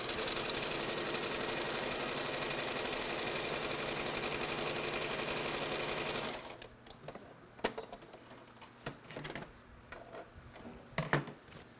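An industrial sewing machine stitches a skirt seam in a Belize sewing factory, running in a steady dense whir for about six seconds before stopping, followed by scattered clicks and handling noises.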